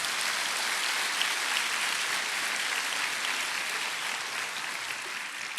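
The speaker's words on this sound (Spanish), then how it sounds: "denle el aplauso a Dios" A church congregation claps in praise to God, the applause dense, loud and continuous, filling the whole stretch with an even wash of many hands and no talk on top.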